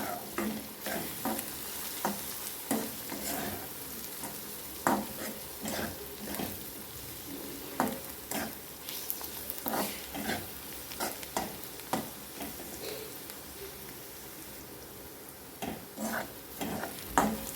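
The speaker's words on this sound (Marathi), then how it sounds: "हे छान मसाले तेलावर परतून घ्यायचेत आपल्याला" Spices sauté in hot oil in a pan while a spoon stirs them, giving a soft continuous sizzle broken by frequent sharp scraping and tapping strokes in an irregular rhythm, close up and fairly quiet.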